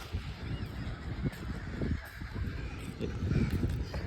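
Honking calls from geese or similar birds ring out intermittently over a steady outdoor murmur at the Chowpatty seashore in Porbandar, Gujarat, some fairly close, others farther off.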